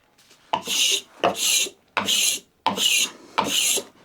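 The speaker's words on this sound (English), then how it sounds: "the cabinet scraper performs quite well on this" Cabinet scraper drawn across a Tasmanian oak board in five steady strokes, each a bright, close rasping scrape separated by short pauses, with no talking.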